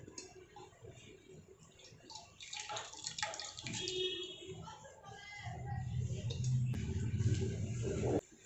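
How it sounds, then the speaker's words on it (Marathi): Water drips and trickles in bursts as it is squeezed out of washed potatoes, then a steady splashing pour builds toward the end, close by, with some voice in the background. "आता याच्यामधलं पाणी पूर्ण असं निथळून घ्यायचं, पूर्ण दाबून घ्यायचा"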